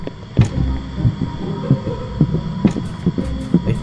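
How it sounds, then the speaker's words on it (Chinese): A heartbeat sound effect from the fan-made horror game Rainbow Friends Chapter 3 gives repeated deep double thumps at an even, fairly quick pace over a low, steady hum. "心跳加速"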